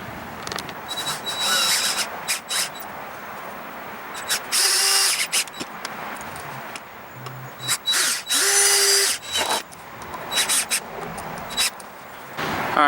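Cordless power drill driving screws into green pressure-treated lumber for a raised vegetable garden bed, in repeated short whirring bursts with pauses between them, close and fairly loud.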